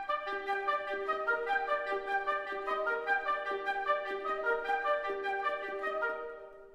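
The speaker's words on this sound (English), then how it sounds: "And the ostinato I came up with sounds like this." An orchestral ostinato depicting falling snow: a bright, repeating pattern of plucked and bell-like notes cycles steadily at a moderate pace, layered with sustained tones, and fades out at the end with no voices.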